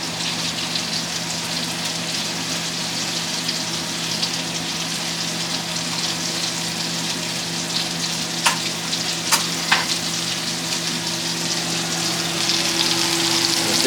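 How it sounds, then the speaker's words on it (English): Scallops pan-searing in butter, a loud continuous close sizzle with a faint steady hum underneath and a few sharp ticks of a utensil, no talk. "That's the traditional way to cook scallops. I was trying to mix the butter in with it."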